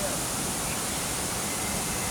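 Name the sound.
bubbling water flowing in rills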